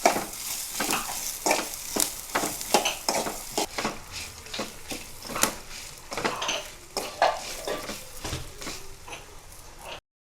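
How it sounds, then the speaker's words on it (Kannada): Spice masala frying in a pan for chicken gasi sukka, with repeated clinks and scrapes of a spatula stirring against the metal over a soft sizzle, close and busy throughout. "ಆ್ಯಡ್ ಮಾಡಿದ ನಂತರ ಒಳ್ಳೆ ಮಾಡಿ ಫ್ರೈ ಮಾಡಬೇಕು"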